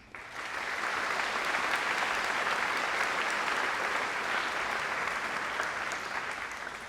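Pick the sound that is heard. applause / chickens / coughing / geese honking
applause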